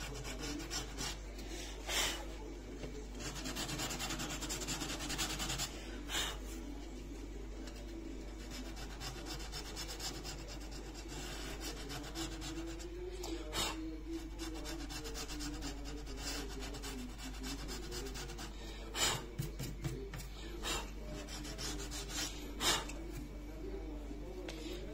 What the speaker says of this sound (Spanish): Vamos a ir lijando un poquito